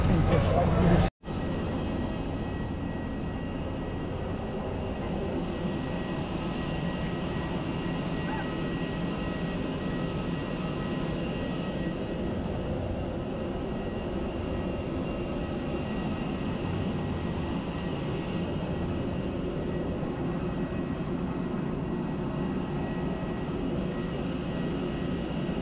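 Inside an airplane cabin, a constant low engine and air drone hums steadily throughout, with people talking over it after a brief clatter at the start.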